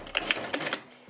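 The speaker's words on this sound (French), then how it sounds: "On a la couture de la doublure à refermer avec la machine ou un point d'échelle. Là, c'est à l'intérieur, donc je vais faire à la machine." A sewing machine runs a quick seam closing the lining of a fabric-scrap bag, giving a few short, rapid mechanical bursts that stop within about a second.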